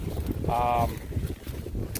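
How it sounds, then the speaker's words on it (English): Steady wind rushes and buffets across the microphone, with a short tonal whine partway through. "It's a little windy here right now this afternoon to be spraying"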